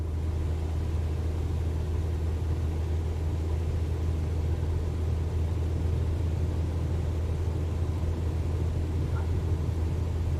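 Aircraft engines at full takeoff power during a runway roll in Microsoft Flight Simulator 2024, a steady, loud, continuous low drone holding evenly throughout with no talk over it.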